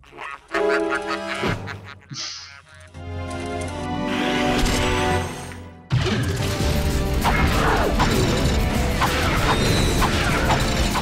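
Wrench melee combat in the Ratchet and Clank: Going Commando video game brings clanking metallic whacks and smashes, with mechanical crashes and effects layered over game music, loud and continuous.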